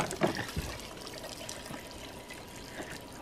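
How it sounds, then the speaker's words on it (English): Water pours from a child's watering can at a campsite bath, a soft continuous trickle and splash heard fairly close, with no talk. "We're using your brother's watering can."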